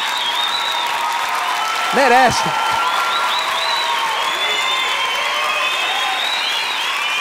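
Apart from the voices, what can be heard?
audience applause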